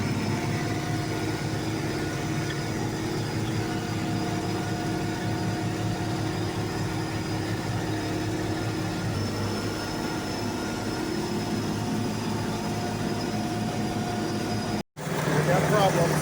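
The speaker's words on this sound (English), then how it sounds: "I love listening to the sound of the turbo whistling on this tractor's diesel engine." A farm tractor's diesel engine runs steadily for a long stretch with a thin, high turbo whistle over its low drone, broken by a brief dropout near the end.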